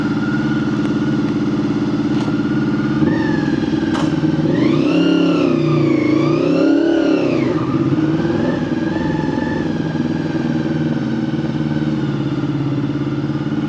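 A Honda VFR 400K motorcycle engine runs steadily and close by, with a continuous deep drone that swells as the revs rise and fall midway before settling back to an even idle-like hum.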